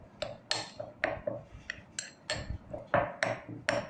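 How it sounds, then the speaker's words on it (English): A spoon stirs a mixture of neem leaves in oil inside a container, scraping and clinking in a quick, uneven rhythm of about a dozen close strokes. "I'm going to stir this."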